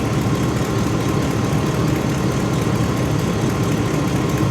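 Hummer H2 SUT engine idling, a steady, loud, close rumble with even low vibration throughout and no voices.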